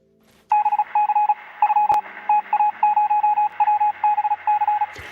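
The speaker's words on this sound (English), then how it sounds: "so that's a Morse code" Morse code beeps from the KubeDerby video game: a steady run of short and long electronic tones in a clipped on-off rhythm, loud and alone, with a sharp click partway through.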